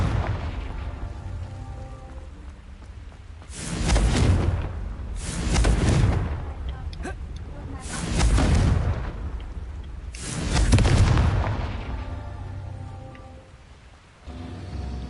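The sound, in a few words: Confringo spell explosion in a video game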